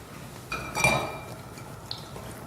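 Pans and utensils clink once or twice in a kitchen while cooking is set up with oil, a short bright metallic knock followed by quieter handling and a faint later tap.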